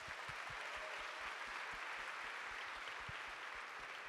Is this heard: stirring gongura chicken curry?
no